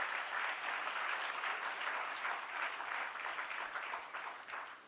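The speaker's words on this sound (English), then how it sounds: "one more time a big round of applause for Lydian Nadhaswaram" Delegates at a tech conference give sustained, even applause, a steady wash of many hands that sounds quiet and somewhat distant, with no voices over it.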